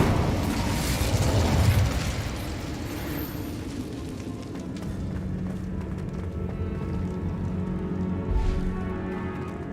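A fire spell erupts in Hogwarts Legacy with a loud whooshing burst at the start, then settles into a steady roaring crackle of flames with smaller flare-ups through the rest.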